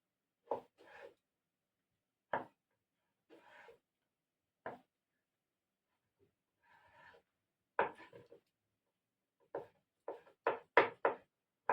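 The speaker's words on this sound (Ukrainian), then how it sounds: "Також маленькими кубиками нарізаю моркву." Sharp knife strikes tap against a board in sparse, irregular chops with quiet gaps while dicing carrots into small cubes, then quicken into a rapid run near the end.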